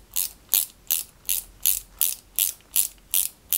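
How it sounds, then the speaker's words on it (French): A small ABM screw being driven into a 1/8 scale Ferrari 330 P4 model, ten crisp ratcheting clicks at an even pace from a hand screwdriver, close up with no talk. "Et on visse ça jusqu'au bout."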